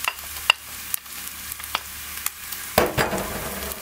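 Minced onion sautéing in a pan makes a low sizzle punctuated by scattered clicks and scrapes of stirring, close by, then a louder clatter near the end, with no talk.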